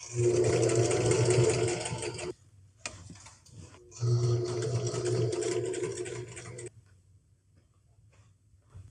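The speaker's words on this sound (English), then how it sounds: "now it is time to sew" A home sewing machine stitches denim for a pair of jean shorts, running in two close, steady bursts with a whirring hum and ticking needle, separated by a short pause before falling quiet.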